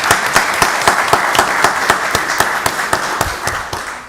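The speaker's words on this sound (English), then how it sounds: "Y'all give Pastor Brown a round of applause." Audience applause for Pastor Brown at a Rockdale County Board of Commissioners meeting, a steady, fairly loud wash of many hands clapping with distinct sharper claps standing out throughout, no talking.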